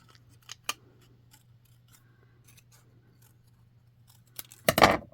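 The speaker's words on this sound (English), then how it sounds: "Just kiss cut around all those wonky lines that I made." Scissors cut around a painted petal shape on a non-porous surface still wet with acrylic paint: a few sharp isolated snips early, then quiet, ending in a louder cluster of close cutting sounds.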